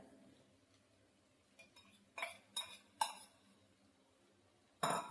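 Egg kothu chapathi being stirred in a pan, a few sharp metallic clinks and scrapes of a utensil against the pan, spaced out over quiet background, with no talking.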